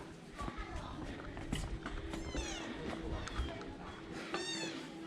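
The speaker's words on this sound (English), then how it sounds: "And there are many cats here, many cats." Several small kittens and cats in a street of Chefchaouen, Morocco, give thin rising meows, a few separate cries over background street noise, soft footsteps and distant voices.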